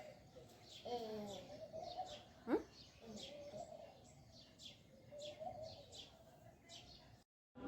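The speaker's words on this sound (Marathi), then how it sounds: "मला इथे छान अशा चिमण्या दाखवल्या" House sparrows chirp in quick repeated bursts, fairly faint, with a voice and other soft voices briefly heard amid the calls.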